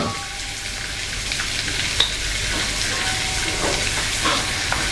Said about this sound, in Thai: ให้เราใช้ไฟกลางนะครับ ผัดไปเรื่อยๆ